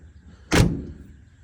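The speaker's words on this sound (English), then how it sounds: "Again, door shut just like that." The door of a 1940 Ford Deluxe Tudor sedan shuts once with a single solid, close thump that decays quickly into quiet.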